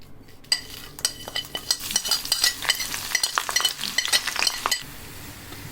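Garlic, whole dried red chilies and cumin seeds sizzle in hot oil for a dal tempering, with crackling spatter that builds steadily and occasional clinks of a spoon against the pan, all close up and without speech.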